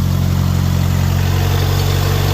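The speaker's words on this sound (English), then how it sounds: "1947 L134A Go Devil engine. First start and run." A 1947 Willys L134A Go Devil engine idles steadily on its first start in years, a close, constant low rumble with an even rhythmic thrum and no talk.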